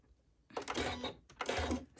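Sewing machine running two short stitching bursts along the lining side of a lined dress, a quiet mechanical whir and clatter starting and stopping with a brief pause between.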